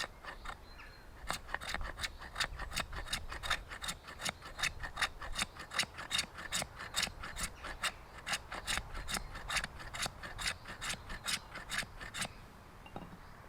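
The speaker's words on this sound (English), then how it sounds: "I just like to get some shavings on, okay, to sort of fluff it up with the back of my knife" The back of a knife scrapes shavings from a stick of resinous fatwood in a quick, even series of dry rasping strokes, close and fairly quiet, roughly two per second, with no talking.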